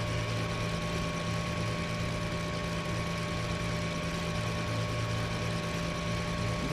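A small aircraft's engine runs at a steady low idle while taxiing in FSX, a constant droning hum with faint tonal whine and no change in pitch throughout.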